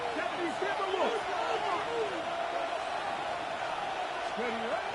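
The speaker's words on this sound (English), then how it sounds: "This crowd into it now as we get to third down." Football stadium crowd roaring during a game as third down approaches, a dense, steady wash of cheering and whooping that stays loud throughout, with whistling and voices rising within it.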